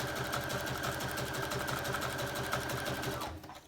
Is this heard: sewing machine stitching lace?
yes